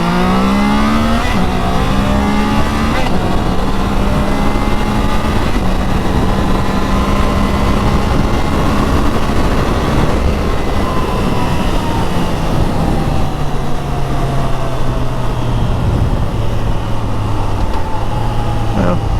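A Triumph Trident 660 three-cylinder motorcycle accelerates hard and close, its engine note climbing through several gear changes with brief dips between shifts, loud and steady throughout with no talk over it.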